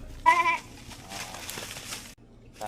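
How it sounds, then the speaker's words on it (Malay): Goats at a Qurban sacrifice gathering give a clear bleat near the start, followed by murmuring crowd and scattered voices, with another short sound at the end. "3 ekor kambing."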